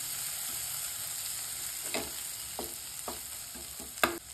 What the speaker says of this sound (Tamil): இது எல்லாத்தையும் லேசாக கலந்து விட்டுக்கோங்க.